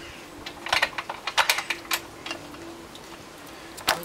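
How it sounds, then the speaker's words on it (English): A motorcycle chain is worked back onto the rear sprocket during rear wheel refitting, making a quiet, close series of irregular light metallic clicks and rattles with short gaps between them. "put the chain back on."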